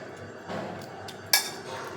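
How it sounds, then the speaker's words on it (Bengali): A utensil scoops out the insides of slit teasel gourds, making soft scraping and a few light metallic clinks against a bowl. The sounds are quiet and close, with no talking. "চিড়ে এইভাবে ভেতর থেকে সমস্ত অংশগুলো বার করে নিচ্ছি।"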